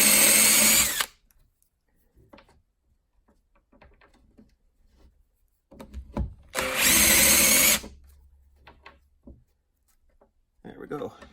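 A power drill whines loudly in two bursts while drilling into wood, a short one at the start and a longer run later, with quiet handling clicks between them.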